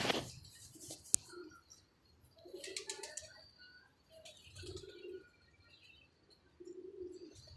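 A pigeon coos close by in several soft, low, rolling phrases spaced through the moment, with a few faint chirps and small clicks around them.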